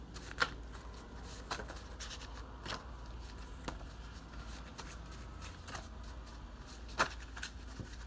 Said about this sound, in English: I'm just gonna shuffle all the cards first